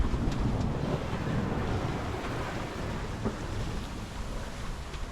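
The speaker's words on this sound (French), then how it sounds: "Le vent il a descendu un peu." Wind rushes and waves wash steadily around a sailboat at sea, a dense, continuous broadband roar with no clear breaks and no voices.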